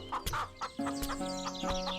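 Chickens at a chicken shop cluck in short bursts, with a sustained musical tone underneath in the second half.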